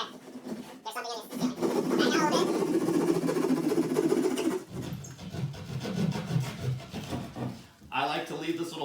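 Rough back-and-forth strokes of a hand saw rasp through a ceiling in two long bursts, close and steady, with short pauses between.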